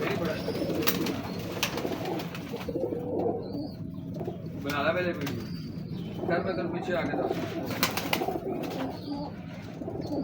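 A prized royal pigeon coos in low, rolling bursts among other birds, with a few higher chirps, close by and under frequent talk throughout.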